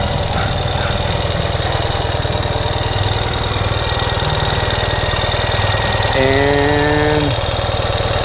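A 2019 Ural Gear Up sidecar motorcycle idles while warming up, a loud, close, steady rhythmic thumping with no pauses and a brief whine rising over it near the end.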